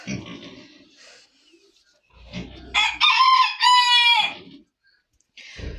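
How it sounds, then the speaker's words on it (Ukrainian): Roosters crow loudly and close by, long drawn-out calls lasting a second or more, following softer clucking and rustling farmyard noises; guinea fowl are kept on the farm. "Виспівують. Півники на вулицю не хочуть іти."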